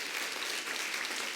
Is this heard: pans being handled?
no